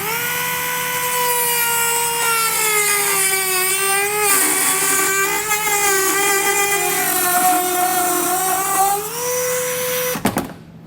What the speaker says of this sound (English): I'm going to use a Dremel tool to cut this out just to speed things up